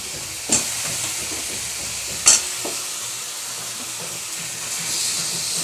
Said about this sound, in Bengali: মাংসটা দিয়ে দিই এবার।